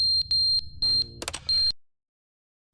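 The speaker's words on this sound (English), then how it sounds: "you gotta replace the smoke alarm batteries" A smoke alarm in the game The Stanley Parable Ultra Deluxe Edition gives several shrill, high-pitched beeps in quick succession, mixed with a short burst of clatter, then cuts off into silence.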